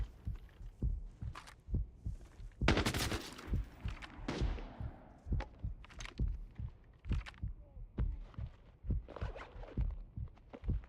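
Gunfire in the shooter game Arena Breakout Infinite: repeated sharp single shots and short bursts at a loose, uneven rhythm, with one dense, louder burst early on, fairly close and without speech over it.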